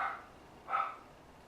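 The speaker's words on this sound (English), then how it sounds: "The doggies are barking" Dogs bark twice in the distance, each a short faint burst separated by a pause, with no other sound.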